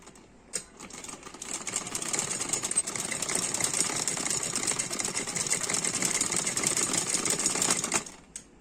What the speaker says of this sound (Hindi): अब इस पे हम सिलाई करेंगे इस तरह से